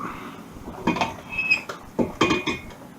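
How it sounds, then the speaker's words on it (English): A few clattering metallic knocks and rattles as cooked vegetables are tipped into a metal colander, two short bursts close by. "dump it straight into a colander, and put it back into the pan"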